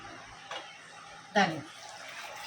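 Water is poured into a cooking pot while making chana dal khichdi, heard as a short, close splashing gush lasting about a quarter second over a quiet kitchen background.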